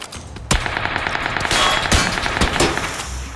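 Gunfire in a video game: loud, close shots firing in quick bursts and single cracks over a steady battle-noise background.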